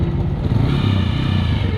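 A motorcycle ridden on a trip from Fort Munro toward Jatoi in DG Khan, its engine running close and loud with a throbbing low rumble and slight rattle over a short burst.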